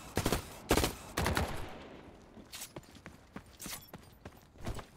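Gunfire in the shooter game The Cycle Frontier: several sharp, separate shots cracking out in an irregular rhythm, loud at first and then a little softer and farther away.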